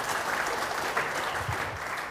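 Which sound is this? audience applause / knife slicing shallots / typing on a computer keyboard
audience applause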